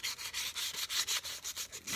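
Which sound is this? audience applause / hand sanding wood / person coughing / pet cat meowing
hand sanding wood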